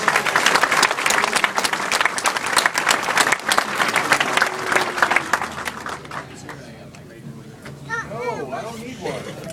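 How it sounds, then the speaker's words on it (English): A crowd applauds baseball player Matt Carpenter, loud, close clapping with cheers and children's voices mixed in, fading after about six seconds into softer chatter and high-pitched kids' calls. "Matt Carpenter, give him a round of applause."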